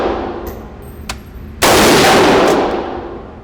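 A PTR Industries G3 clone rifle fires a single loud, sharp shot outdoors that rings out and decays over about two seconds. Faint clicks come before it and no one speaks.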